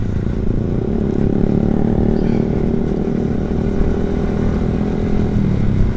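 A Vision R motorcycle engine idles and runs close to the microphone, a loud continuous low rumble with steady mechanical clatter throughout.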